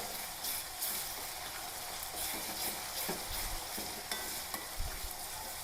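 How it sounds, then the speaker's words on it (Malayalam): Ginger-garlic paste sizzles and fries in a pan for a sardine pickle, a continuous crackling hiss with occasional stirring scrapes and soft thumps throughout. "ഇഞ്ചിയും വെളുത്തുള്ളി പേസ്റ്റാണ് പച്ചമുളക് ഇട്ടിട്ടില്ല അതങ്ങനെ ഇട്ട് കൊടുക്കാം അപ്പോൾ ഇതൊന്ന് മൂക്കട്ടെ"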